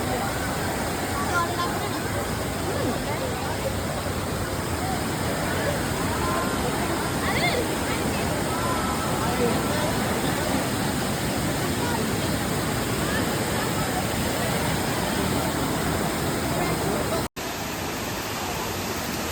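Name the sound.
waterfall flowing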